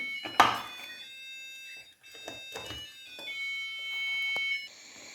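An alarm clock beeps with a steady, high-pitched ringing tone at midnight, accompanied by a few sharp clicks and knocks nearby.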